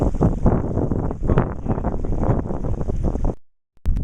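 Strong wind buffets the microphone outdoors by the sea, a loud, rumbling, gusty roar that cuts off abruptly near the end before a brief return.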